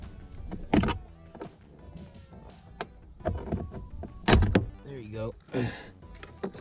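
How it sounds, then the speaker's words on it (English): A 2016 Dodge Charger SRT interior light cover is pried loose with a screwdriver, giving a few sharp plastic clicks and thunks at close range, with brief voice sounds between them. "you're just gonna have to pop this down here with the screwdriver"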